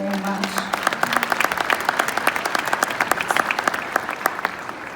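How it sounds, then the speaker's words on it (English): Audience applause fills the room as a thick, lively patter of many hands, rising just after a brief voice at the start and continuing loud and close. "round of applause to you"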